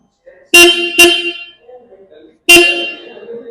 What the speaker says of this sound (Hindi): सिंगल हॉर्न मिल रहा है आपको इसके अंदर, जिसका वॉल्यूम काफी ज्यादा लाउड रहने वाला है